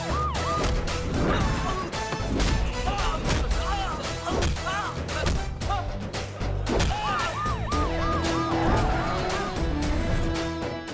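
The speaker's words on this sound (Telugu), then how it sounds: "నెక్స్ట్ 60 మినిట్స్ సిటీ అంతా సైరన్తో మోతం మోగిపోద్ది" Police sirens wail with rising and falling tones across a city during a tense film scene, layered under a loud dramatic score with crashing hits throughout.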